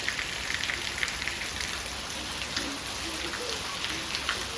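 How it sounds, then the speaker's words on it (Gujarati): Steady rain pours outdoors while a mother and son bathe in it, an even hiss of drops hitting surfaces with faint splashes, and no clear talk above it. "વરસાદમાં મા દીકરો બે નાય છે"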